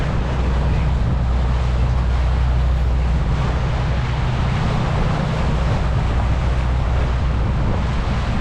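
A trawler cruises along the Intracoastal Waterway, a steady low engine drone under continuous wind buffeting and water rush, loud and unbroken throughout.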